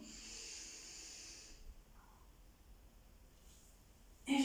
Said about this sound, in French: Donc, j'inspire.